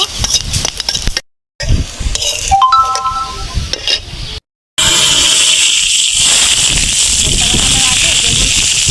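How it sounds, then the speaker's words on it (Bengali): Green chilies for a greens mash are dropped into hot oil in a pan. A few clinks and rustles come first, after two short gaps, and then a loud, steady, close sizzle. "কাঁচামরিচ ভাজতে নিতেছি হেঁচি শাক ভর্তার জন্য"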